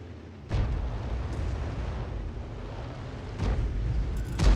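Shells from a CS63 tank hit in a World of Tanks-style battle with heavy booming explosions, a big blast near the start and another toward the end, over a low rumbling battlefield background.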